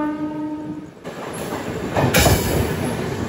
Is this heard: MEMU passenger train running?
yes